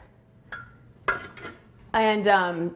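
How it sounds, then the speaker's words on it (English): Utensils clink and scrape against a bowl while rice is served into it, with a few scattered taps followed by a louder ringing dish contact near the end. "put a little bit of the rice in the bowl"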